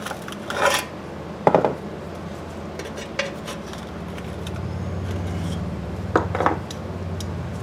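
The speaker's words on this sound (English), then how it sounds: "So what you want to do is just try and pry that up a little bit." Metal scraping and rasping while prying a part up on a 1985 3 HP Briggs engine, with a few short bursts of grinding against a low background rumble.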